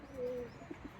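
Pigeons of mixed colours cooing outdoors, a faint, low, soft coo followed by a couple of brief murmured notes over quiet background noise.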